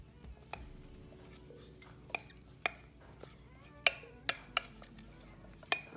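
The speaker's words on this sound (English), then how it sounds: "I'm going to take those veggies and I'm going to just put them at the bottom of this pan." Vegetables placed into a 9 by 12 inch baking pan, heard as a scattering of sharp, separate clinks and taps against the pan over a quiet background, close by, with no voices.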